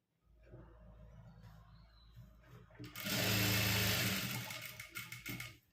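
A sewing machine stitches a straight seam on a garment top, a low close hum that swells into a loud, steady whirring run of stitching for a few seconds before slowing.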